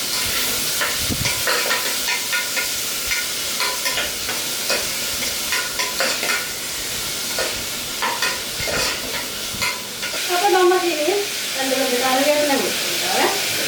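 Elephant yam curry with a sour tomato sautéing in a pan: dense sizzling and repeated scraping stirs throughout, with a brief pitched squeak or voice-like sound near the end.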